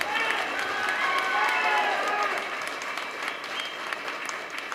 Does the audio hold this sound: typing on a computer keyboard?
no